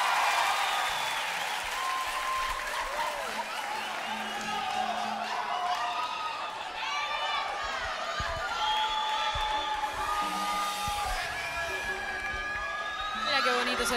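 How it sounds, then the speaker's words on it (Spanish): A live concert crowd applauds and cheers for a band, with dense clapping, whoops and shouting voices rising over it throughout, growing louder toward the end. "un aplauso para ellos"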